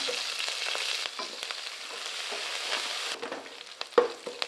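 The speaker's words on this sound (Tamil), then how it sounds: "இதெல்லாமே நல்லா வறுபட்டுருச்சுங்க" Steady sizzling of ingredients with green chillies frying in a pan, with occasional clinks and stirring scrapes, a sharper clatter near the end.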